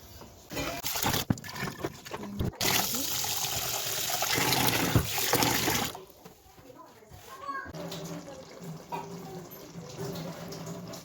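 Rice being washed in water in a home kitchen before cooking pudina rice: steady running and splashing water, loud and continuous for about six seconds, then softer swishing and trickling with small clinks close by.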